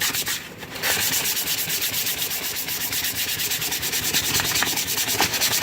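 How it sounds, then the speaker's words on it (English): An old wooden tool being hand-sanded with sandpaper, a continuous rapid back-and-forth rasping that is close and loud throughout, after a brief pause at the start, with no talking. "all we're going to do is just a quick sand on this thing"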